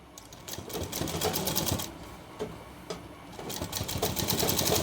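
Sewing machine stitching a shirt collar, a steady rapid needle chatter in close bursts that pause briefly and restart, with no voices.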